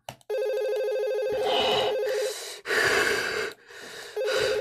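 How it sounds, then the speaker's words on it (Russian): A telephone rings with a steady electronic tone in repeating stretches, broken by short pauses, while close breathy gasps and snorts come through between and over the rings. "кто мне сейчас звонит там"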